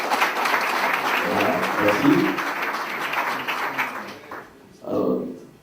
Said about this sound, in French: Donnez un peu plus de tonus à vos applaudissements.